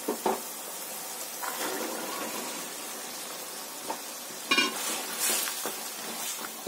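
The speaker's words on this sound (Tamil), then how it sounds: "இப்போ இதுல மொச்சையை போட்டுக்கலாம்." Broad beans (mochai) drop into a pan of frying onions, a soft ongoing sizzle with a few sharper clatters and scrapes of stirring, close by and moderately quiet, without speech.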